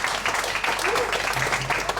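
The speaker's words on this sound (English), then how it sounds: "So, give them the biggest applause" Audience applause at a poetry slam, a steady wash of clapping throughout the short span with a voice audible beneath it.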